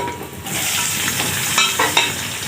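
Onions drop into hot oil with whole garam masala and crackle in a loud, steady sizzle, with a few brief spoon scrapes near the end and no talking.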